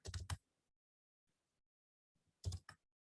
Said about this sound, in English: just clicking on different things.